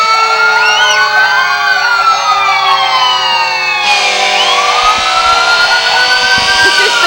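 Fire truck sirens at the close of Attleboro's 100th anniversary parade wail loudly and continuously, several overlapping rising and falling tones layered with a horn, close and dominant throughout.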